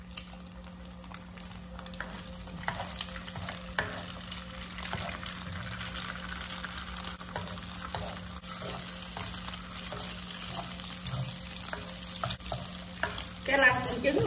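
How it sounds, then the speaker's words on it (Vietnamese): Chicken pieces fry in hot cooking oil in a home kitchen, a continuous close sizzle with bubbling and spatter, a short scraping stir near the end, no voices. "Gà vô chiên nha"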